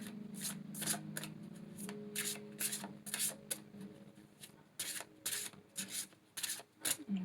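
Oracle cards shuffled by hand, a close series of crisp riffling and rubbing bursts repeating irregularly, papery and fairly quiet with a faint low hum beneath and no talking.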